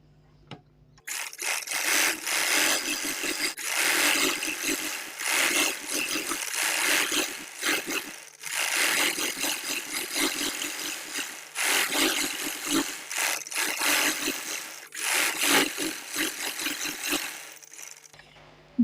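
A sewing machine stitches the side seam of a ladies' pajama pant, a close, steady whirring run in several long bursts with brief pauses between.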